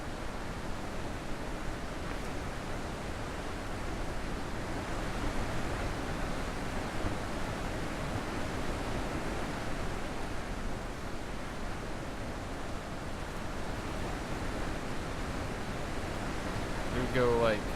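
Steady rushing water of a waterfall in the video game The Witness, a constant broadband roar that holds level and unbroken the whole time, with no voices over it.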